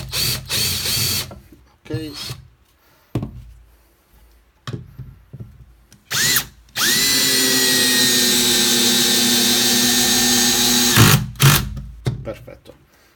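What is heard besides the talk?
TECCPO TDHD01P 18V impact drill driving a screw into wood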